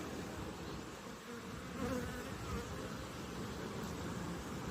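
Continuous low droning hum of many honeybees buzzing together inside a hive, steady and dense throughout, with no voices.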